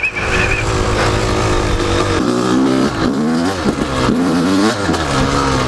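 An enduro dirt bike engine revving hard on a short climb, loud and close, with sustained high revs that rise and fall in pitch as the rider works the throttle; no talking.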